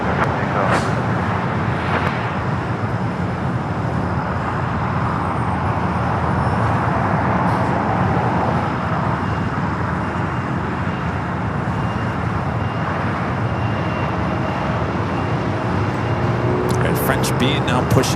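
An American Airlines airliner takes off from runway 25 right at LAX, a steady broad roar of jet engines holding for the full length at moderate distance, with people talking over it.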